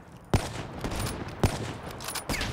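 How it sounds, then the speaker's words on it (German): Gunfire in the Call of Duty game Black Ops 3: three sharp, loud shots spaced about a second apart, each a broadband crack standing out over steady in-game background noise, with no voices over it. "Von wo kam denn der Schuss jetzt?"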